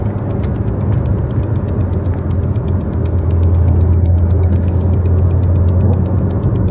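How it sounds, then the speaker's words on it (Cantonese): A Porsche drives on a road test after its control arms and half shafts were replaced, its engine and tyres giving a steady, loud low rumble and hum from inside the car, with faint regular ticking above. "喺交車之前，我哋仲要進行道路測試終檢。"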